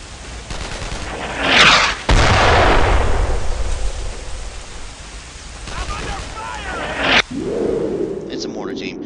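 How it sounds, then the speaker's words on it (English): Mortar shells burst in a World War II shooter game, two heavy booming impacts with long rumbling tails about two seconds and five seconds apart, loud and close, with a sharper crack near the end. "It's a mortar team! It's a mortar team!"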